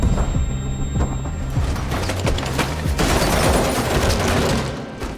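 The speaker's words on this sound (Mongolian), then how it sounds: "тэрч тэднийг өчөггүй буудаж эхэлнэ" Dense gunfire rattles through a movie shootout between a detective and soldiers, continuous and loud, with sharp cracks and booming impacts layered over a heavy, steady background.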